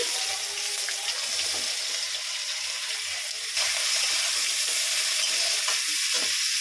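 Fried potatoes with bay leaf, chopped onion and spices stirred in a pan, a soft steady sizzle with occasional scraping of the spatula, close and continuous, briefly louder partway through.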